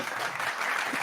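Brief burst of audience applause, a steady wash of many hands clapping at moderate distance, even and continuous for about a second.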